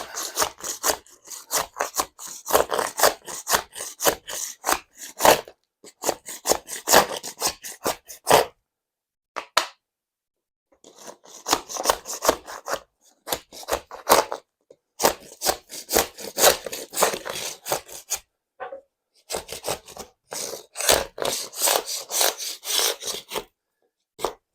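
A razor scraper scrapes dried glue off a sacrificial wooden worktop in bursts of rapid, rasping back-and-forth strokes, with short pauses between runs.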